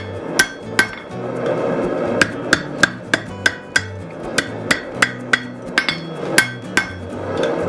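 A blacksmith hammers hot steel while forging the hook of a hoof pick, striking about twenty sharp ringing blows in a fairly steady rhythm with short gaps, loud and close.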